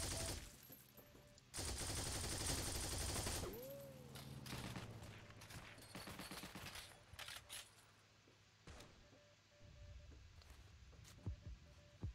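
An MP40 submachine gun fires in a video game, with dense bursts of rapid automatic gunfire, loud and close, broken by pauses and scattered single shots and other in-game effects.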